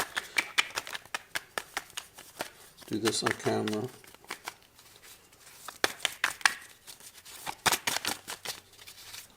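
Tarot cards riffle and snap in repeated quick bursts, close up, with a voice talking briefly between shuffles.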